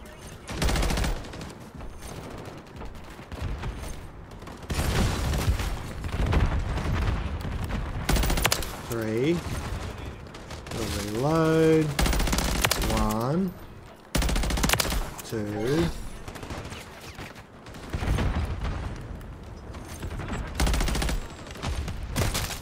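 Rapid automatic gunfire in Call of Duty, with bursts of shots from a magazine weapon across the whole stretch alongside game effects and a brief musical tone, loud and dense.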